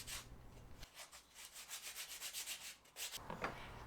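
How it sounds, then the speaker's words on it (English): Wooden handholds for a Pikler climbing triangle being sanded, a steady rhythmic scratchy rubbing of strokes, faint and close, with no talk. "we added a round over to the top and bottom edge before giving them a final sand"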